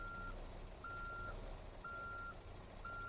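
Truck reversing beeps in Euro Truck Simulator 2 chime in a steady repeating pattern, about four evenly spaced tones over a constant engine rumble.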